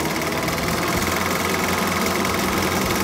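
A Super 8 film projector running at 18 frames per second, giving off a loud, steady mechanical whirr and rattle that holds even and unbroken throughout.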